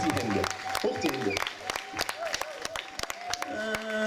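Audience at a live band show clapping along on cue, sharp rhythmic claps spread through the crowd while a performer's voice shouts over it and music tones hold in the background.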